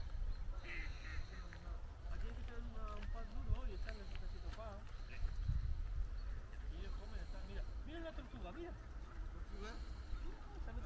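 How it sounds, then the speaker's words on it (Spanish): Ducks quack in a noisy outdoor setting at Txingudi Ecopark, their calls scattered and overlapping against a steady background hum, with people talking nearby. "Pero hay un montón de patos"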